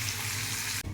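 Oil sizzling in a pan as curry cooks, a steady, fairly quiet hiss that cuts off sharply near the end, with no talk over it.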